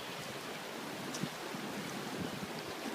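Fast-flowing river running beside an abbey in Wales, a steady broadband rush of water heard close with wind buffeting the microphone, continuous and without speech.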